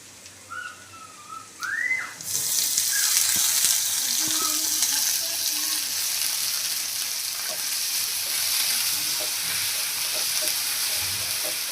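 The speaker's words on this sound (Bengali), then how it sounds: "পেঁয়াজ রসুন হালকা ভাজা হয়ে গেছে এখন কেটকি মাছের সুটকিগুলো দিয়ে দিব" Dried kechki fish goes into a pan of lightly fried onion and garlic, and a loud, sudden hiss swells into a constant close sizzle that continues to the end.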